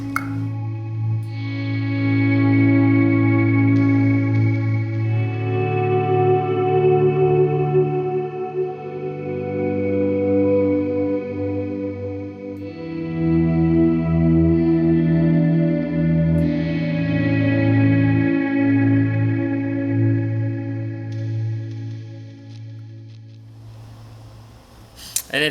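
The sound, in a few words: guitar with delay and digital reverb pedal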